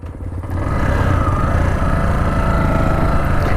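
A modified Yamaha R15 V2 motorcycle with a V3 conversion being ridden on the road, its engine rising from a quiet start into a loud, steady, close drone with a fine rhythmic pulse.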